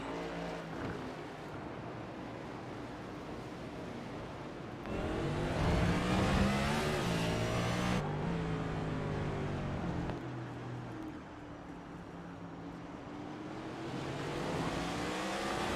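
Race cars lap an asphalt track during 5150 Cup Series racing at COTA. Engines whine past in sweeping pitch bends, swelling as a pack passes and fading to a distant drone, with no voices.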